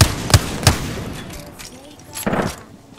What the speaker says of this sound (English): Alright, start shooting.